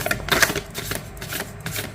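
Tarot cards being drawn and shuffled from a deck, a quick run of soft papery flicks and slides close to the microphone.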